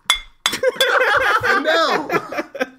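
Glasses clink together in a quick toast, bright sharp chinks near the start and end of the moment, with laughter and lively chatter around them.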